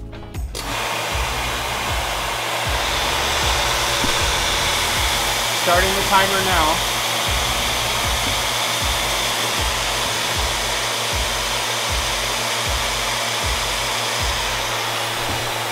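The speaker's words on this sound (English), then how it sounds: "It's all closed up, so it'll start to create suction." A cow milking machine runs at close range with a steady broadband suction hiss over a regular low pulsing beat from the pump, continuous and fairly loud, while a person speaks briefly over it.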